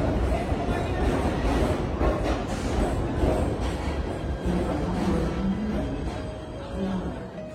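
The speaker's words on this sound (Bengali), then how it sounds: "ওই যে ট্রেন আসছে আমাদের" A New York subway train pulls into a platform with a loud, steady rumble of wheels and cars. Voices murmur faintly beneath the noise.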